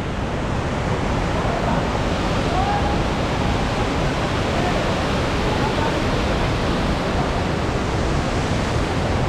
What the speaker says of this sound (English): So we finally arrived at the waterfall.